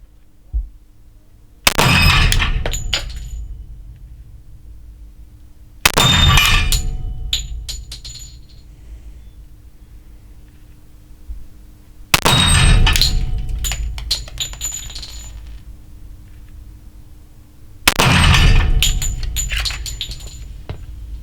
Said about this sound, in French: J'ai décidé de tirer dans la cible métallique.